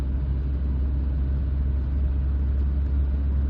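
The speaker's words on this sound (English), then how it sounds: "The engine's quite torquey, it's very comfortable" Steady low rumble from a 1988 Volvo 740 2.0 GL's engine while driving, an even cabin drone with no speech over it.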